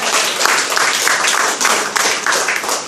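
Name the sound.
congregation applause in church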